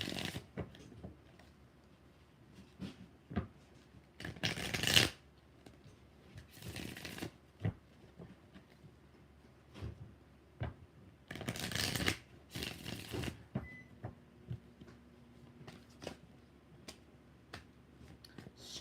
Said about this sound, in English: 4 shuffles for Julia Farrell